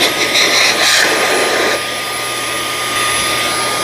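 Fanttik Slim V9 Mix cordless car vacuum running on high, a close, steady airy whir with a brief rougher surge near the start before settling into a constant drone.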